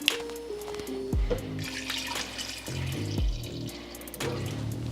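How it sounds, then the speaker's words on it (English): Chicken stock pours into a pot of green beans on the stove, a steady liquid splash and trickle running through the whole stretch, close by, with a few clinks of the pot in between. "I go ahead and use chicken stock. So what I'm doing is just adding some more to it."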